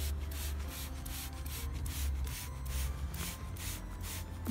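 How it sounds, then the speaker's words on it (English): Repeated short hissing bursts from a spray bottle of food colouring sprayed onto a snowman, several quick pumps in a row, close and steady with a low rumble underneath. "So spray onto your snowman."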